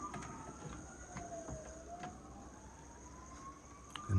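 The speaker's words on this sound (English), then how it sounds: "And now we have sirens." A distant emergency vehicle siren wails slowly up and down during a major wildfire in Portugal, faint and far off over a low background rumble, with a louder knock at the end.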